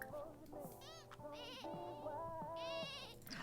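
A sheep bleats in a video game, several wavering, nasal calls in quick succession, close and clear over a quiet background with a faint voice underneath.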